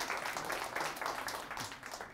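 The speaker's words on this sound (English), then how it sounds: "a round of applause for yourself" Audience applause after a lecture-style talk session, a steady dense patter of many hands clapping at moderate distance for a couple of seconds, filling the room without any voices over it.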